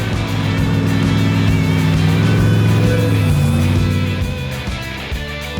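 Hellcat Redeye Jeep Grand Wagoneer engine while driving: a loud, steady, deep engine drone with a rich harmonic hum that shifts pitch slightly midway and eases off toward the end.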